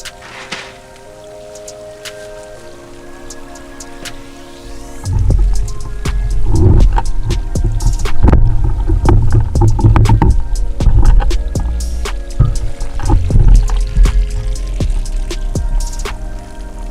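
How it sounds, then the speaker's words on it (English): Water pumped through a hydroponic gutter bed system trickles and splashes steadily, starting faint and turning into a loud, close, continuous gurgling flow with irregular drips partway through. "here's the inlet where all the water comes into, pumps through, travels through the gutter, then comes down"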